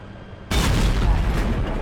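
A tank gun round strikes an E-100 in a tank video game and bounces off with a sudden, heavy boom, followed by a loud, rumbling decay at close range.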